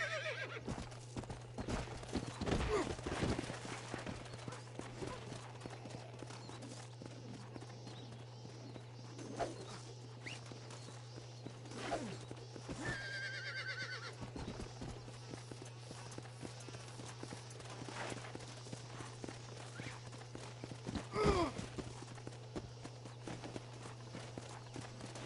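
Horse in the Red Dead Redemption video game, hooves clip-clopping at a walk with occasional snorts and whinnies over a steady low hum, fairly quiet and with no talk.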